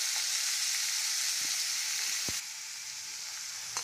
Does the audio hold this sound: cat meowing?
no